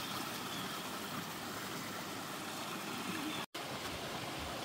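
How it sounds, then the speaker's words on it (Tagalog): Strong flowing water at Iargo Springs in autumn, a steady broadband rush close by, briefly cut out for a moment near the end. "Ang lakas ng tubig natin"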